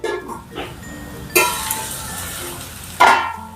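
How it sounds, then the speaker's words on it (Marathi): A spoon stirs bhagar shira cooking in a pan over low gas. Soft sizzling runs throughout, broken by two sharp scraping clinks of metal against the pan, close and distinct. "हे शिजेपर्यंत, भगर शिजेपर्यंत याच्यामध्ये असंच चमचा फिरवत राहायचं आणि एकदम स्लो गॅस करायचा।"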